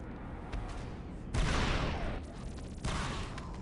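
Gun turrets fire in the Star Wars Republic Commando video game in rapid, dense bursts of blaster fire over a busy, continuous battle soundscape.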